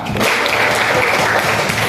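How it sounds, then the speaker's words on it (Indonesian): A classroom of students claps for their classmate Fatma during a social studies lesson on preliterate humans. The applause is brief, dense and fairly loud, a short burst of many hands that holds steady for about two seconds. "tepuk tangan untuk Fatma"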